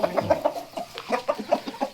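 A young fighting rooster, a Thai game cock, clucks in a quick run of short, close, moderately loud notes, evenly spaced, with no talk.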